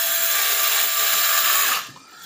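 A power screwdriver drives a screw into a speaker mount for a Tesla Model 3 or Y speaker upgrade, a loud, close, whining buzz for under two seconds before it cuts off.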